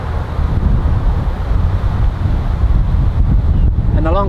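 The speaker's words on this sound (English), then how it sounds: "it's very windy" Strong wind buffets the microphone, a loud continuous low rumble and roar with gusty fluctuations throughout.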